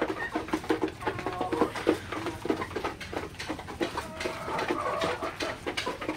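Several Sonali chickens, about two kilograms each, cluck and chatter busily as they feed, a restless overlapping flock sound with no talking.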